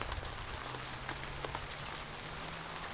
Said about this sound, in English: So the rain continues to pour on top of us.